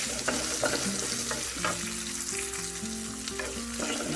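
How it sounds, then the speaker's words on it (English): Roasted peanuts fry in a pan with a steady, close sizzle and crackle, joined by a few light stirring clicks, with no talking. "Let it fry for a minute or 2."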